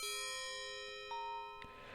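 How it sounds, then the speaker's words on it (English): A castle doorbell in the video game Castle of Dr. Brain chimes with a sustained ringing tone, followed by a few faint struck dings that fade out, quiet and with no speech. "So let's go ahead and ring here."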